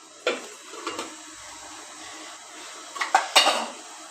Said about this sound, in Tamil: இட்லி பானையில் உருட்டி வைக்க வேண்டியது